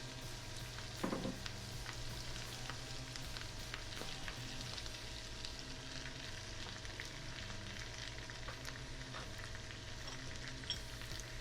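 Spinach sautéing in a pan with olive oil and garlic, a quiet steady sizzle with scattered light crackles and occasional soft utensil taps, faint and continuous, no speech.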